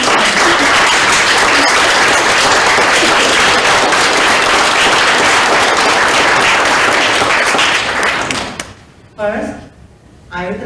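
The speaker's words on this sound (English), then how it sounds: "Please give them a round of applause." Loud, sustained applause from a ceremony audience for the staff crew at a film festival inauguration, dense clapping that cuts off near the end, followed by a few brief knocks and a short voice.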